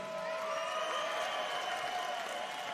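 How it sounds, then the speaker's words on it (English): A cage-fight crowd applauds and cheers for two fighters after the bout, a steady roar of clapping with whistles layered on top, continuous throughout. "big round of applause for these two guys"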